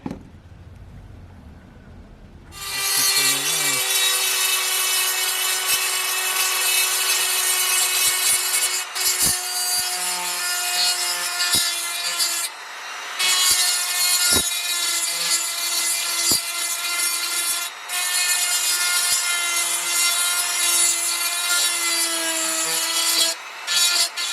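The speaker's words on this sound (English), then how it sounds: "we'll use a carbide burr, and we'll just kind of get all of this material out of there down to the surface" A carbide burr on a rotary tool grinds material out of a broken tab on a C2 Corvette headlight bucket, giving a loud, steady high-pitched whine that starts after a few seconds and runs to the end with brief dips.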